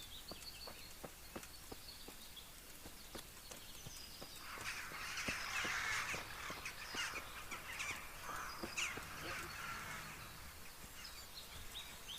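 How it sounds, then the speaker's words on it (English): Distant crows caw in a quiet outdoor scene in the Kingdom Come Deliverance game, with faint rhythmic ticks of footsteps underneath and a brief fluttering rise as the birds take off. "the birds flew away up here"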